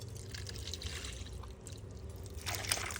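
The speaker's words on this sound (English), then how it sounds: "Put that water down the center." Water is poured down the center of a worm bin, a faint, close trickle and splash that swells briefly toward the end with no talk.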